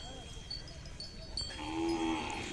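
Cowbells clank and ring among Khillar bulls at a busy outdoor cattle market at a village fair in Chadchan, Vijayapura, with a low murmur of crowd noise in the background.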